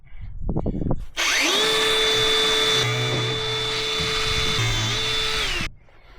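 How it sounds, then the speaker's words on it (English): A power tool whines loudly and steadily for about four and a half seconds while cutting hose clamps on a Land Rover Defender, with its pitch sweeping up at the start and dropping at the end after a few brief knocks. "I'll just cut the hose clamps, and hopefully I'll be able to pull the rubber hoses off"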